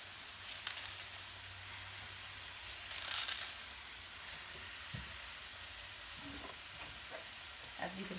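Cabbage fries in a pan with a faint, steady sizzle and a few soft stirring clatters and scrapes, low in level and close by, with no talking.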